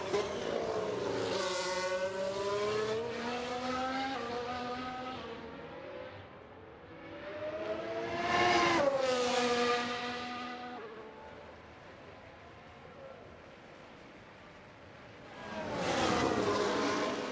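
F1 cars leaving the pits in F1 Manager 2023, Alfa Romeo and McLaren among them: high-pitched engine whines rise and fall in three distinct passes, each swelling loud then fading, with no voices.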